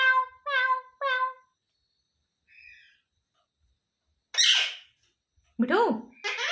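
A pet parrot gives three quick, harmonic meow-like calls in a row, imitating a cat, then a faint short call and two harsh, swooping squawks, close and loud with quiet gaps between.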